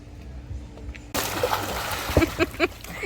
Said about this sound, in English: You splashed my phone that time.